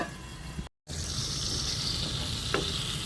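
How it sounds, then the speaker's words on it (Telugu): Tomato wedges sizzle and fry in hot oil, a steady dense crackle with a brief dropout and one small clink partway through, no voices. "ఈ 4 టమాటాలు ఇలా బద్దల్లా కట్ చేసేసుకొని ఈ ఆయిల్లో వేసేసుకొని మగ్గించుకోవాలి"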